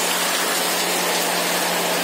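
Heavy rain pours down outdoors in a steady, dense hiss with no break, with a faint low hum running beneath it.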